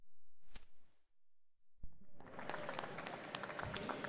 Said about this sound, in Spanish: un aplauso para Manolo.